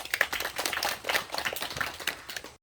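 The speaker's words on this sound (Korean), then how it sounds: "다 같이 박수 한번 주시죠." Applause at a memorial ceremony for a war veteran, a burst of brisk, fairly sparse clapping from a modest crowd, steady for a couple of seconds before it cuts off abruptly.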